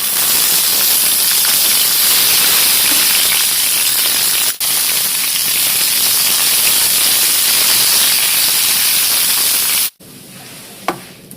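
Loud, continuous sizzling hiss from a hot pan, steady and close for about ten seconds before cutting off abruptly, followed by a faint clink.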